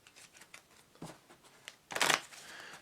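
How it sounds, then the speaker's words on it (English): Playing cards from the Flip City board game being shuffled at a table, with soft riffling taps through the first half and a louder, close burst of card riffle near the end. "I have to shuffle these up"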